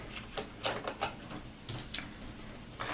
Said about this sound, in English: I'm removing all these little metal screws.